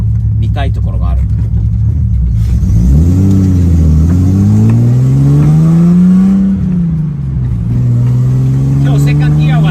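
A Datsun 240Z S30 engine pulls in second gear, its loud close drone rising and falling in pitch as the car accelerates and eases off, with cabin rumble and people talking over it.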